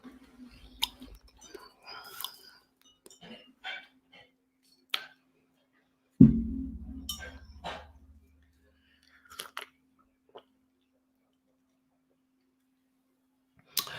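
Someone chews very close to the microphone with wet, clicky bites in scattered bursts separated by silence. A louder thump and rumble comes near the middle, and a faint steady hum runs underneath.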